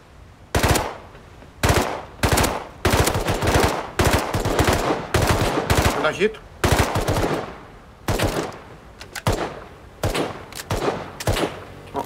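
Rapid bursts of automatic gunfire in Rust, short three-round volleys repeating with brief gaps, loud and close.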